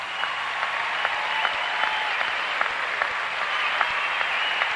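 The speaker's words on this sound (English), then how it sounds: "Nice round of applause for the defending champion, Rosalind Sumners." Crowd applause for figure skater Rosalind Sumners at a 1992 professional skating competition, a steady wash of clapping from a large arena audience, somewhat distant and even, with a few sharper claps standing out.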